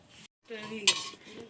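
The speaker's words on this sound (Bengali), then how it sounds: "উনুনটা জ্বালিয়ে নিয়েছি, কড়া বসিয়ে দিচ্ছি।" A metal wok is set down on a lit stove with a clanking thud and a brief ringing tone, close and alone after a moment of silence.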